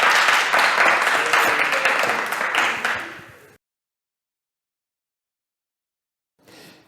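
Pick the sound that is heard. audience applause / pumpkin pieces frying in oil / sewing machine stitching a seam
audience applause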